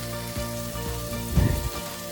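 Cherry tomatoes fry in a pan for seafood marinara, a steady close sizzle with a few soft knocks and a louder burst of spitting and bubbling near the middle, no voices.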